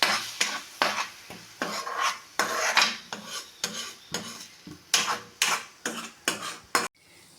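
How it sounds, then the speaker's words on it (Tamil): Egg stir-fry (muttai poriyal) in a pan being stirred and scraped with a spatula in a brisk, regular rhythm of close, loud strokes over a light sizzle. "இதை நல்லா கிண்டி விடுங்க. சிம்மில் வச்சு நல்லா கிண்டுங்க."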